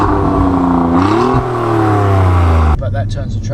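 BMW M3 in manual mode revs up with a rising engine note and barking exhaust, loud and close, cutting off abruptly near the end, while people talk over it.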